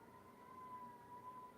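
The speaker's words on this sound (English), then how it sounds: "You can hear the sirens." Emergency vehicle sirens sound faintly in the distance with a thin steady wailing tone over low background hum, and no voices are heard.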